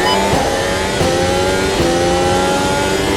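Race car engine on a hot lap at Spa in the Automobilista 2 racing game, a loud sustained high-revving whine with quick shifts and pitch changes through the corners.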